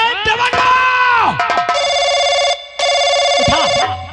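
A telephone rings out in steady, repeating electronic tones during a staged village music-party drama, with loud, excited voices shouting over and around it.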